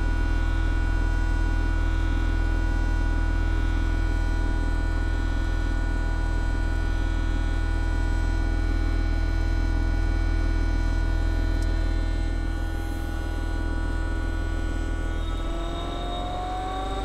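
An axial flux pulse motor runs with its output loaded to about 2 amps, giving a steady, loud electrical hum with strong harmonic overtones that persists unbroken throughout, with no voices.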